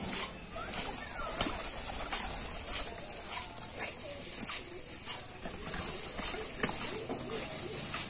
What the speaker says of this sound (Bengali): এখানে তো অনেক রকম কবুতর আছে